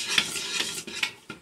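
A roux cooks in a pot while a utensil stirs and scrapes it in four or five quick rhythmic strokes, close and fairly quiet, with no talk.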